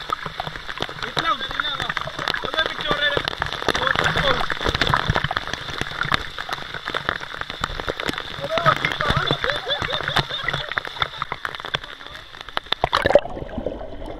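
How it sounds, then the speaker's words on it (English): Heavy rain falls steadily over water terraces, a dense, continuous hiss of drops that stops abruptly near the end, with a person talking over it. "Here too much raining."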